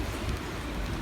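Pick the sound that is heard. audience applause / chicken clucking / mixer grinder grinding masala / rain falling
rain falling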